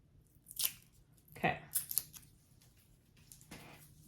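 Protective film peeled off a sewing zipper gives a few short, close, crisp tearing and crinkling bursts separated by quiet pauses.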